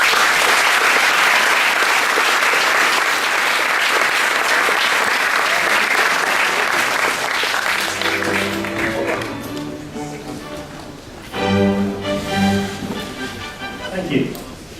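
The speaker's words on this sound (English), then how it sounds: "Please give him a big round of applause." An opening ceremony audience applauds loudly and steadily, the clapping thinning out after several seconds and giving way to someone speaking over the fading claps.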